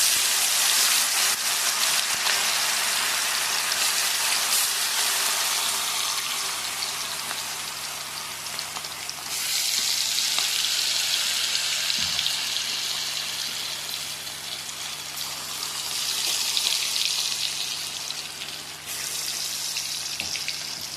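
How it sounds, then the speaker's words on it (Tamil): Chicken 65 pieces deep-frying in hot oil, a dense continuous crackling sizzle that swells and eases in waves, close and steady for the whole stretch with no talking. "நம்ம இப்போ எண்ணெயில் அதை போட்டு வறுத்து எடுத்து சாப்பிட்லாம்."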